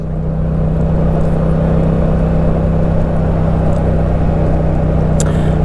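A Yamaha MT-07 motorcycle rides along at a steady speed, its engine a loud, constant low drone mixed with rushing air at close range, with no one talking.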